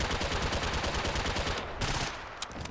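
An HK MP7A2 submachine gun in Fallout 4 fires a loud, sustained automatic burst of rapid shots, which thins into a few separate cracks before stopping.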